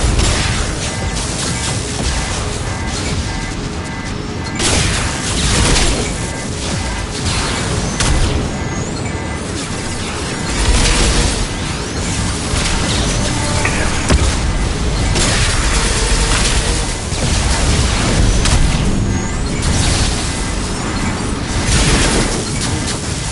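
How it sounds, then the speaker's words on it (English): Flashbang grenades bursting during a combat firefight in Mass Effect, a string of loud booms and crashes over dense battle noise lasting throughout, with no talking. "Watch out, flashbangs!"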